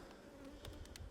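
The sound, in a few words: honey bees buzzing around hive brood combs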